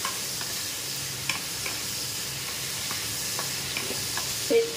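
Food frying in a pan gives a steady, close sizzle with soft stirring scrapes over a home kitchen, with a brief louder clatter near the end and no talking.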